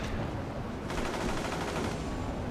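Dense, continuous rapid gunfire from the video game Champions Online, loud and sustained throughout with no pauses and no voices.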